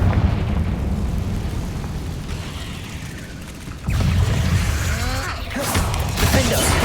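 Confringo fire spells blast in Hogwarts Legacy, a sustained roaring rumble broken by a sudden heavier explosive burst and crackling debris, followed by further impacts, with no voices.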